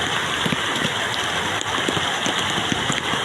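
Heavy typhoon rain pours steadily onto flattened rice fields, a dense continuous hiss with scattered close drop patters and no voices.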